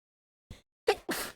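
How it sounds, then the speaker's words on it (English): A short sharp sneeze burst after a small intake, close and loud, in otherwise silence. "I want to sneeze."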